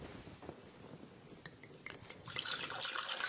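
Water is poured into buckwheat crêpe batter in a kitchen, a soft liquid trickle that builds into a steadier, brighter pour toward the end, fairly quiet and close.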